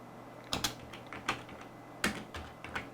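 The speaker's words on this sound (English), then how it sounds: "try and type in some data" Someone types data on a computer keyboard while working in a spreadsheet, producing sparse, quiet key taps in small irregular clusters against a faint steady hum, with a louder tap at the very end.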